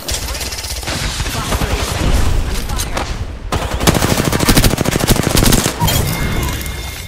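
Rapid automatic gunfire from a firefight in Apex Legends, dense bursts of shots continuing almost without pause, loud and close, with a brief gap near the middle.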